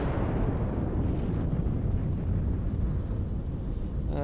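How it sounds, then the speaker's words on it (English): A huge video game explosion rumbles on in a deep, sustained roar, heavy and continuous like debris still crashing down. "That's one big ass explosion."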